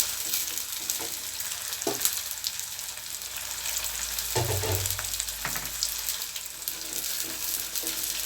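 Onions, curry leaves and green chillies frying in oil for Chettinad venthaya kuzhambu make a constant close sizzle and hiss, with a few soft stirring sounds and no voices.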